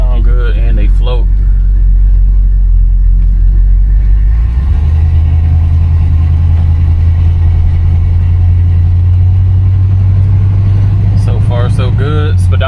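A 1973 Buick Centurion with a 455 V8 rumbles deeply and steadily while driving, a low, heavy engine drone heard from inside the car, with someone talking briefly at the start and again at the end.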